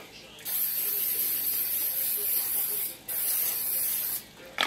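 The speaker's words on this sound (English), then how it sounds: "I'm going to spray the bottom of it so brownies don't stick" Bursts of non-stick cooking spray hiss loudly and close by onto a baking pan, two long sprays separated by brief pauses, with faint mechanical clicks in between.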